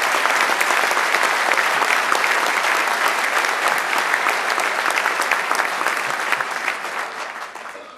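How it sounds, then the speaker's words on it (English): A large audience at the 2011 Long Beach State of the City address breaks into loud, sustained applause for the airport department staff, dense clapping that carries on steadily before tapering off at the end. "Please join me in a round of applause for Mario Rodriguez and the airport departme"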